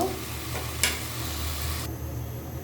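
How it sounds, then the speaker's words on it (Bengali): Potato pieces cook together with shrimp in a pan, an even, close frying sizzle with a brief sharp stir or clatter near the start, lasting a few seconds without speech. "আলুটা দিয়ে আমি আরেকটু রান্না করে নিব"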